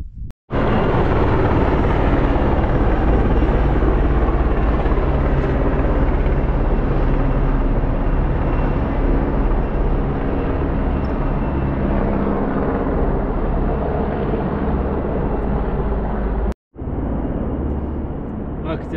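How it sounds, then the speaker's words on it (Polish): Helicopter circling near climbers in the Tatra mountains around Zamarła Turnia, a loud continuous rotor and engine roar with rumbling wind buffeting, steady throughout apart from a brief dropout near the end. "Gdzieś śmigłowca albo szkolenie ciągle trwa. Kręcą się tutaj koło nas."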